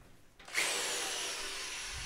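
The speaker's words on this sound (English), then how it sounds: "So I'm trying to drill just until that's right about touching the surface." A power drill bores a hole for a threaded insert in a sensor bracket, starting after a brief quiet moment and then whining steadily and loudly up close until the end.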